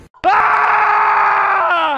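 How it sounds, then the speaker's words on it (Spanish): A single loud, sustained scream of fright bursts out after a brief quiet moment and holds steady for nearly two seconds before tailing off slightly, close and alone without other sounds. "yo muy asustado grité"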